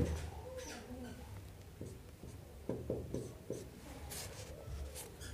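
Pen scratching out a Class 10 trigonometry maths question on paper, soft close strokes and taps in uneven bursts over quiet room noise.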